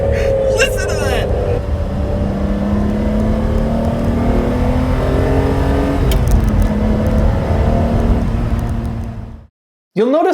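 A 1990s sports car, a Ferrari 512TR or Porsche 911 Turbo, revs hard with rising and shifting engine tones, loud and close for nearly ten seconds before cutting off abruptly.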